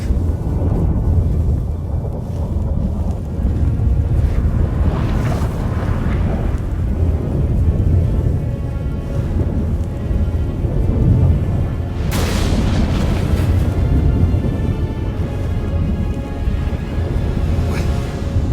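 A thunderstorm rumbles in The Witcher 3, with deep continuous booming and wind-like roar throughout, swelling into louder crashes around the middle and again near the end, with no speech.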